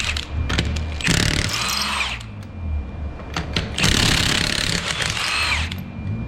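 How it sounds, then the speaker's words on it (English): Power tool, likely an impact gun, spinning off 21mm lug nuts from a wheel before a rear drum brake job, loud rattling bursts separated by brief lulls and clanks, no voices. "To do this, we need to remove the 5 21mm lug nuts."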